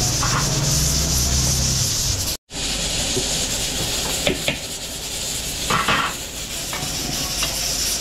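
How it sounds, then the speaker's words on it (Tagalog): Ingredients for kare-kare sautéing in a pan at a catering service in Porac, Pampanga: a loud, steady sizzle and frying hiss with scraping and stirring on top, interrupted once by a brief dropout. "Igigisa muna natin to."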